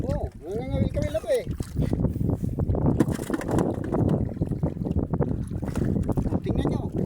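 Strong wind roars steadily across the microphone aboard a fishing boat at sea, loud and continuous, with water and engine noise beneath and a person talking over it throughout.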